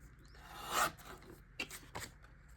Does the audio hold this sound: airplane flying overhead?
no